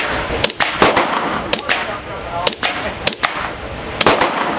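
Gunshots crack out at a gun range, a handful of sharp, loud reports spaced irregularly over a few seconds, each a sudden burst followed by a short decay, with a murmur of background noise between them.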